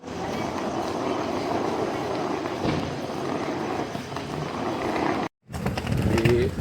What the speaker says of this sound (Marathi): ट्रेन आपली आलेली आहे